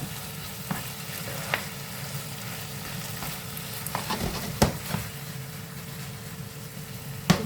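Ground pork giniling fries and gets stirred in a pan, a constant close sizzle broken by scattered scraping clicks from the spoon.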